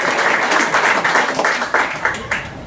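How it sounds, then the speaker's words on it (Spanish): A church congregation applauds during a Spanish-language service. The clapping is loud and fairly close, then thins toward the end into a few separate, sharper claps. "Denle un aplauso al Señor"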